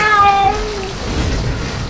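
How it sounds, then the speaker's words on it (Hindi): A cat meows at a water park: one clear, drawn-out meow near the start, then a steady wash of water and ambient noise with no voices. "अरे चिंटू वो देख, एक बड़ी बिल्ली भी आ रही है वाटर पार्क में।"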